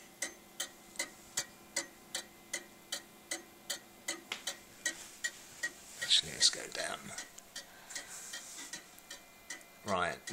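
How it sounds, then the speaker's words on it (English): A pendulum clock ticks in a steady, even rhythm of sharp clicks, roughly two per second, close and clear, while a person speaks and handles something briefly partway through, with a knock near the end. "if you listen to the beat of the tick, it should be pretty much the same sound both sides of the swing"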